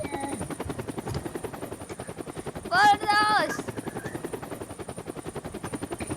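A police helicopter in a bank robbery video game keeps up a steady rhythmic rotor chop for the whole stretch, while a voice briefly shouts over it.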